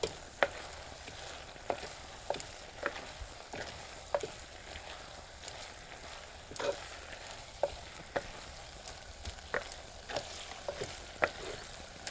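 Fresh okra with spices stirred in a pan over a soft frying hiss, with regular sharp clicks and scrapes of the spoon against the pan recurring every second or so, quiet and close.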